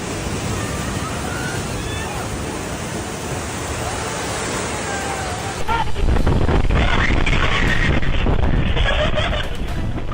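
Massive ocean waves off Greenland roar in a continuous loud wash of surf and wind, swelling into a heavier crashing surge midway.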